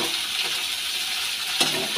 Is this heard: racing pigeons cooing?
no